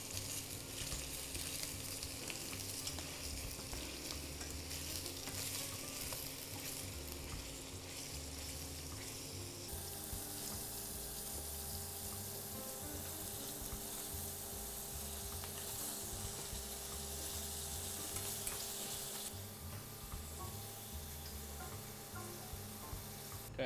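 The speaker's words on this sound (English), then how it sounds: "The oil heated, we can now start going in with the beef." Beef pieces sear in hot oil in a pan for beef stroganoff, giving a steady, close, dense sizzle and crackle that holds for the whole stretch with no talking.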